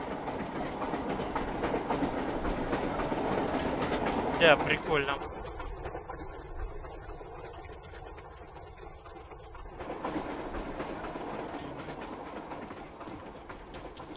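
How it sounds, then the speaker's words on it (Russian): In a video game, an underground train rumbles through a tunnel with a steady clatter. Its tone shifts midway to a hollower, quieter roll before the full rumble returns, and someone speaks briefly. "Круто идет еще по туннелю поезд."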